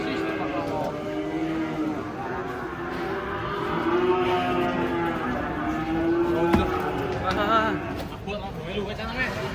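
A giant cow at a livestock market gives long, drawn-out moos, loud and close, over busy crowd noise and people talking.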